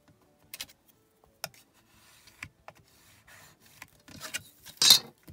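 Card stock being scored along a fold line, a series of short scraping and rubbing strokes with light taps, close and quiet, ending with a louder rasping pass.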